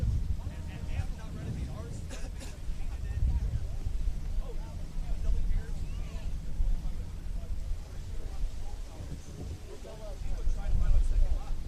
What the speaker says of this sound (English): Folks, the wind, as you might have felt, has picked up quite a little bit